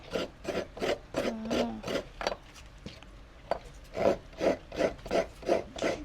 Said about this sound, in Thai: มาเฮาสิมาขูดมะพร้าวกันเนาะ